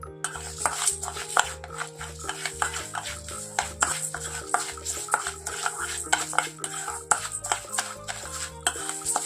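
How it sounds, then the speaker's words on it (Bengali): Rice being stirred with ghee in a metal pot, a spoon scraping and clinking against the sides in a steady, repeated rhythm, close and fairly loud, with a continuous low hum underneath. "তো আমি ঘি দিয়ে এখানে চালটাকে খুব ভালোভাবে মিক্সড করে নেব"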